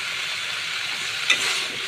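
Pointed gourd, sponge gourd, potato and taro land in hot oil with cooked-down spices, giving a steady loud sizzle with a brief stirring scrape partway through.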